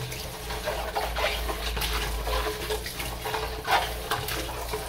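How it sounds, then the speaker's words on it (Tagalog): Running tap water rinses an oily cooking pan at a kitchen sink, a steady close splashing stream with occasional clinks of the pan, no talking. "gusto ko talaga yung banlaw na banlaw. Na walang tira. Walang tirang oil."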